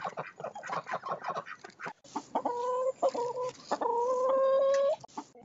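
Chickens cluck close by in short choppy bursts, then a few drawn-out, wavering calls, with brief quiet gaps between.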